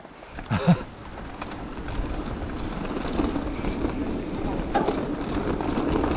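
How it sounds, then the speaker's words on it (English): Wind buffets the microphone during a mountain bike ride in the Peak District, a steady broadband rush with a brief louder gust early on, close and continuous. "That wind behind pushes us along at some speed now."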